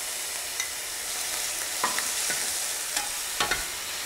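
Tomatoes tossed into a hot frying pan alongside red peppers for a Thai stuffed omelette filling: a steady bright sizzle, close up, broken by a few soft scrapes and taps as they are stirred.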